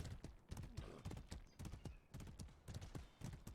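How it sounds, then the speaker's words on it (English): Horse hooves clip-clop at a galloping pace in the Medieval War Simulator video game, a steady rhythmic beat of loud close hoofbeats running through the whole stretch with no talk over it. "I want the horsey. Give me the horsey."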